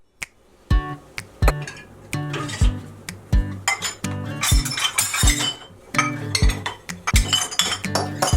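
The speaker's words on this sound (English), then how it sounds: "once the dishwasher is empty, I can load it up again with the rest of the dishes" Dishes and cutlery clink and clatter repeatedly as plates and glasses are loaded into a dishwasher one after another, busy and close, with no talking.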